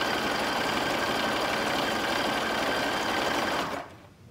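A sewing machine stitches elastic onto the waistband of boxer briefs, a steady close whirring hum that runs continuously for several seconds, then cuts off and fades near the end.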